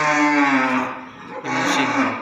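A Limousin cow moos loudly and close by inside a large cattle barn, one long drawn-out bellow that fades briefly and then swells again.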